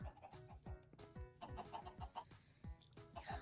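Chickens in a video game cluck and squawk rapidly in a busy, overlapping chorus, joined by quick rhythmic thumps, all at a modest level with no talking.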